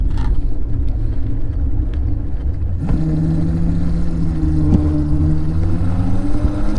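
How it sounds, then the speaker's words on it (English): A Razor MX400 electric scooter freewheels downhill, a steady rumbling roll of wheels and wind with a faint rising whine, close and continuous. "we're freewheeling down this hill"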